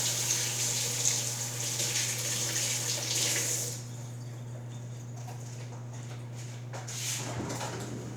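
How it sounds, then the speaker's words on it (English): Tap water runs steadily into a sink while hands are rinsed off flour during blueberry baking prep, a broad splashing hiss for the first few seconds that cuts off, leaving a low steady hum and faint clatter. "Wash my hands off."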